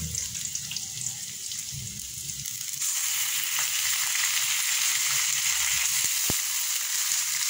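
Native chicken fries in a pot for sinampalukan, giving a steady broadband sizzle that grows louder about halfway through, with a brief clink near the end and no talk.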